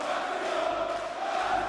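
A darts crowd at the German Darts Championship roars in a sustained, dense wash of cheering and shouting, steady and fairly loud for a short stretch with no distinct voice standing out.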